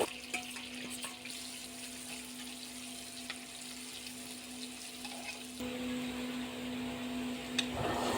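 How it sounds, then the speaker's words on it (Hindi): Ginger garlic paste and cumin seeds frying in half a cup of cooking oil in a pan, a steady soft sizzle and hiss close by that grows slightly fuller partway through, with no talking. "अब एक फ्राई पैन में आधा कप कुकिंग ऑयल डालें, 1 चम्मच ज़ीरा शामिल करें इसमें, 2 चम्मच अदरक लहसुन का पेस्ट शामिल करें इसमें"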